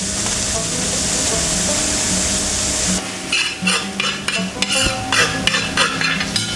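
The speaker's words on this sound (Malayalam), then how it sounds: "അതേ എണ്ണയിലേക്ക് ഞാൻ കുറച്ച് തേങ്ങ ചിരണ്ടിയതും കൂടെ ഇട്ട് കൊടുക്കുവാണ്" Grated coconut hits hot regular (non-coconut) oil for kappa biryani, and a loud steady sizzle and frying hiss gives way to stirring, with clinks of a spoon against the pan.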